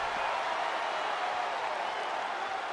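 Steady crowd roar and applause from a WWE 2K20 wrestling match between Sasha Banks and Charlotte Flair, a continuous wash of arena cheering at moderate distance with no distinct breaks.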